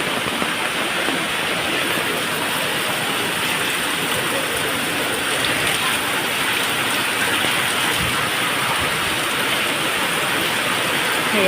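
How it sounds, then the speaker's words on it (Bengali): Steady rain pours onto a flooded road, a dense, even hiss of drops striking standing water that holds at a constant loud level from start to end, with no voices. "সে বৃষ্টি রাস্তায় পানি জমে গেছে"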